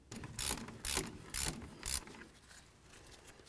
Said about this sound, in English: We're going to remove this caliper slider bolt here and then this one right down here.